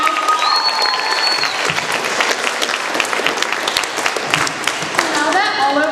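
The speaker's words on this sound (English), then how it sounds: "Can we have a round of applause for everyone who performed tonight?" Audience applauding the performers at a poetry slam, dense steady clapping from a crowd with some cheers and whistles, carrying on without a break.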